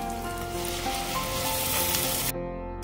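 A spice paste with turmeric and Kashmiri red chili sizzles loudly in a hot pan for a Malvani chicken curry, a steady crackling fry that cuts off abruptly near the end.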